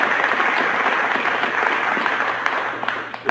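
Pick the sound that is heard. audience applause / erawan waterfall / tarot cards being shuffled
audience applause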